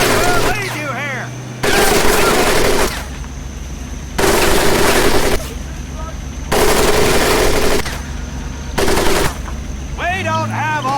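Gunfire over a mud-pit training course in the video game Medal of Honor: Pacific Assault: sustained machine-gun bursts in long blocks, loud and close, broken by brief gaps with a voice shouting between them.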